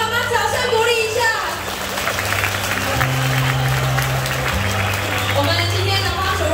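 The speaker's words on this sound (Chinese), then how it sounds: "再次给爸爸妈妈掌声鼓励一下" Wedding banquet guests give the bride's and groom's parents a round of applause: a steady, dense wash of clapping filling the hall, with background music and voices underneath throughout.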